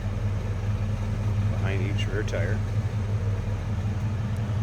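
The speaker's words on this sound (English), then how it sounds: "Just a nice sounding little rumble coming out of it." A 1975 Chevrolet El Camino with rear-exiting exhaust idles with a steady, deep, even exhaust rumble throughout, while someone talks briefly over it.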